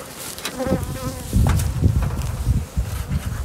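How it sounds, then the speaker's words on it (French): Honeybees buzzing around an open beehive in a rural apiary amid rosemary, thyme and heather, a dense, close, continuous drone with a few soft rustles and no talking. "Alors, on va regarder si c'est une des ruches agressives ou pas."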